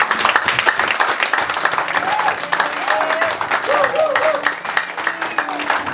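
Congregation applauding in church after a sermon, steady dense clapping filling the whole stretch with a few scattered voices and whistles mixed in.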